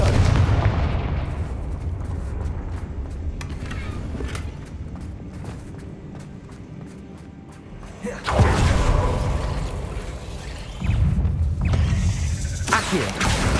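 Booming explosive blasts from the Confringo fire spell in Hogwarts Legacy, heavy low rumbles with bursts around the start, at about eight seconds and near eleven seconds, over continuous game noise, with no talking.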